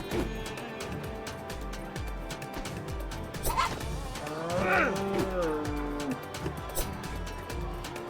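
A cow in The Phantom video game gives a long, loud moo over steady game music and sound effects.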